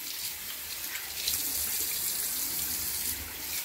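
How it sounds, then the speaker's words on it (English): Lukewarm water runs steadily from a faucet into a sink as a face is rinsed, a close, continuous splashing hiss with no talking. "I'm gonna rinse my face off using lukewarm water, body temperature"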